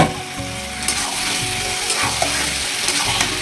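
Yogurt-marinated chicken drops into spices already fried down in a pan, raising a loud, steady sizzle broken by repeated scraping stir strokes, with no talking.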